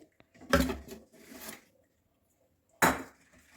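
Ghee being stirred into a sweet batter in a bowl, heard as a few scraping, clattering strokes of a utensil against the bowl, loud and close, separated by short pauses.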